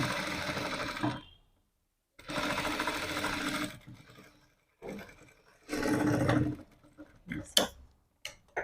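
A sewing machine stitches a blouse in three separate runs of steady, rapid clatter, close by. Each run is broken by brief quiet pauses, and a few sharp ticks fall near the end.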